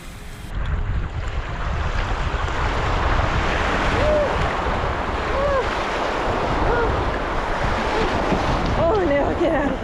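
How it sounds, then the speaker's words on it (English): Strong wind buffeting the microphone over rolling sea waves during a sea kayaking trip in Canada, a loud continuous roar and rush of water with faint bird calls near the end. "The wind seems to be picking up a little bit"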